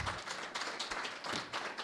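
Audience at a historians' gathering clapping for a speaker, a short, fairly soft burst of applause with irregular claps blending together, no voices over it.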